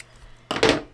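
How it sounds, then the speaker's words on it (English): A single quick, crisp snip comes from scissors cutting quilt fabric along a sewn line. It is close and loud after a moment of near quiet. "you can either use rotary cutter or scissors and just cut along that line"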